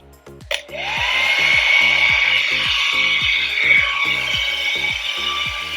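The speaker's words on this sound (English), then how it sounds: "I have added the comb of the blow dryer" A hair dryer switches on with a whoosh and keeps up a steady, close airy roar, with a rhythmic mechanical ticking running underneath.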